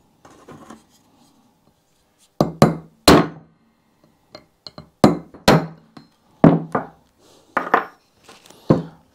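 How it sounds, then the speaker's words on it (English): Sharp metallic hammer strikes on a metal punch working girder forks of a Royal Enfield bobber land in irregular bursts, a few quick blows at a time with short pauses between, close and loud. "I'm just putting dents in it with this punch"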